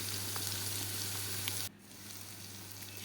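Prawns with ginger-garlic paste go into hot oil in a pan for potol chingri; a loud, steady sizzle drops suddenly as they hit the pan, then slowly builds back up.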